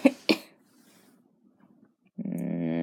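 A woman coughs twice sharply in quick succession, close by, followed by a pause and then a sustained voiced, humming sound.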